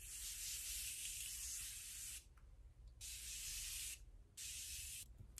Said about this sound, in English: I'm gonna put on my favorite Morphe setting spray.